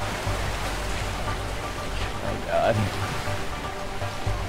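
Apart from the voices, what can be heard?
rushing waterfall in video game A Way Out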